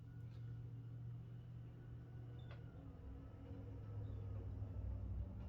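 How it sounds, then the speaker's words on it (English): A truck drives by outdoors, heard as a faint, low, steady rumble that swells slightly toward the end. "I don't know if y'all heard of a truck drove by."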